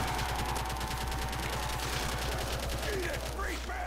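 Fast automatic gunfire chatters in a Custom Zombies match, an even rapid rhythm of shots held at steady volume throughout, with a faint voice beneath and a few high whistling effects near the end.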